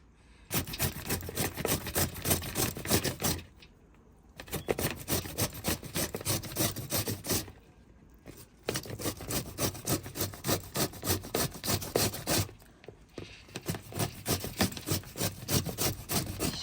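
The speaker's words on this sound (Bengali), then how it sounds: "আমগুলোকে ছিলে নিয়েছি, এখন গ্রেটার দিয়ে ঘষে নেব।" Peeled green mango rubbed against a kitchen grater in fast, rhythmic rasping strokes, close and clear, coming in four bursts separated by brief pauses, with no one speaking.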